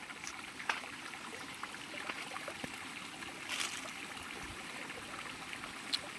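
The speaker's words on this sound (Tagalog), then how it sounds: "napaka daming tubig ang nilalabas niya." Water gushes steadily from a mountain spring, a continuous rushing trickle with a few brief splashes and knocks over the constant flow, heard up close with no talking.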